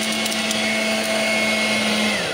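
A 2-in-1 blower vacuum runs on its vacuum setting, giving a loud, steady motor whine with a rushing airflow hiss that holds constant and dips slightly in pitch near the end.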